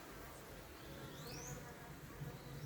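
Honey bees buzz softly and continuously around a hive, a low steady drone that hums alone with no voices.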